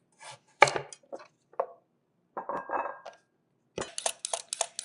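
A knife cuts food in half on a board while corned beef is prepared: scattered sharp taps and chops with pauses between, ending in a quick cluster of crisp strikes.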